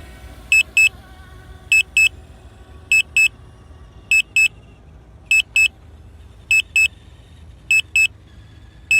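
Paired electronic beeps repeat at a steady rhythm about every second and a half from a Hubsan Zino Mini SE camera drone, sharp and clear over a quiet outdoor background.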